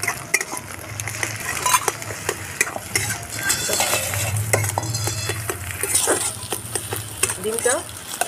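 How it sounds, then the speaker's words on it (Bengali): Egg frying in hot oil with a steady sizzle, while a metal spatula scrapes and clinks against the pan in repeated sharp strokes. A voice talks over it at times. "তেলের মধ্যে দিয়ে দেবো ডিমটা।"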